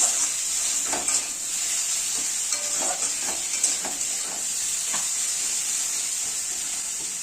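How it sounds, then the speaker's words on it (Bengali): Raw green tomatoes and onion fry in a pan, giving a steady, close sizzling hiss with faint stirring scrapes throughout and no talking. "অনেকক্ষণ ধরে ভাজতে হয় কারণ কাঁচা টমেটো তো একটু শক্ত শক্ত থাকে"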